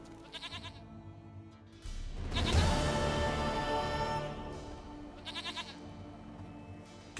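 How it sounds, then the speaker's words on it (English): A goat in The Witcher 3 video game lets out one long, loud wavering bleat, framed by soft repeated ambient chimes and background game noise. "Goat of mine, dearest, sweetest goat."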